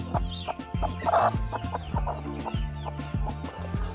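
Hens kept in a coop with nest boxes cluck close by in a continuous stream of short, overlapping, rhythmic clucks, with no one talking.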